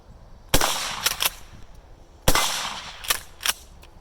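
Two loud shotgun slug shots strike an AR500 steel plate outdoors, each a sharp blast followed by quick metallic ringing hits, spaced about two seconds apart.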